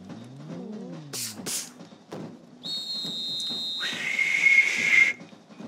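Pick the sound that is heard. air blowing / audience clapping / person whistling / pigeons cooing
person whistling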